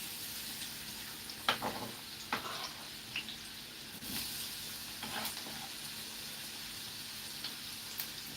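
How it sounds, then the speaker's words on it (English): Onions fry in oil that is not yet fully hot, giving a faint, soft sizzle with a few clinks and stirring knocks, and no voices. "The oil is hot now, so we're gonna go ahead and put the onions in."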